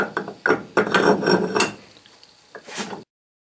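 A metal nut is slid back into a Kurt machine vise during reassembly, giving a few short scraping, rasping rubs that fade into quieter clicks.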